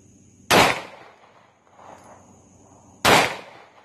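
Two sharp, loud pistol shots fired at steel plate targets, spaced about two and a half seconds apart, with a faint ring and soft rumble between them.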